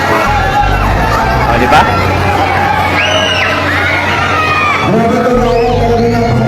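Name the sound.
crowd shouting and cheering at a political rally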